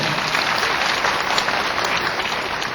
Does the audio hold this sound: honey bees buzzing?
no